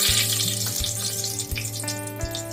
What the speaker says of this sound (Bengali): তেল গরম হয়ে গেছে, একটা শুকনো লঙ্কা, তেজপাতা ফোড়নে দিয়ে দিচ্ছি